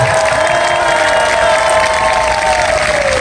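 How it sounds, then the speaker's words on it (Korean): A crowd at an outdoor rally applauds and cheers loudly and continuously, with scattered shouts and a sustained vocal tone rising over the dense clapping. "우리 시민 여러분들과 MBC 동료들이 큰 박수로 한번 보내주셨으면 좋겠습니다"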